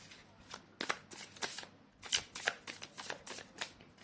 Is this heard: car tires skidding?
no